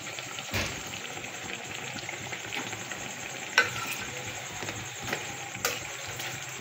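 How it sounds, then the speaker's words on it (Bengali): Battered eggplant fritters (beguni) fry in hot oil: a continuous, fairly soft crackling sizzle with a few small clicks and pops, heard alone without speech. "এভাবে আমি সবগুলো বেগুনি ভেজে নেব।"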